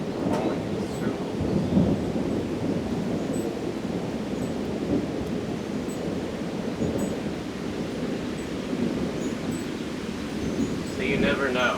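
Thunder rumbles on and on through a storm, a deep, drawn-out roll with rain hiss layered over it, fairly loud and sustained, with a faint burst of higher noise near the end.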